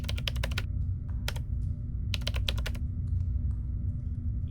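Quick bursts of computer keyboard keystrokes as a password is typed in the video game Still Life 2, close and crisp clusters of taps over a steady low background hum.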